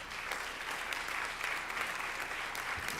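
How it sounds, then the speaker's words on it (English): Steady applause from an audience at a national town hall on reparations for Black communities, a continuous even wash of clapping at moderate level with no pauses. "Another round of applause for Judge"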